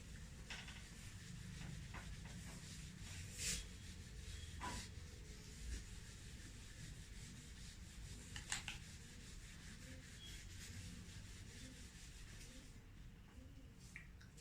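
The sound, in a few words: erasing writing on a board by rubbing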